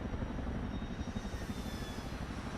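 Chinook tandem-rotor helicopter in Microsoft Flight Simulator 2024, a steady, dense engine and rotor drone holding at an even level throughout, with faint high whine above.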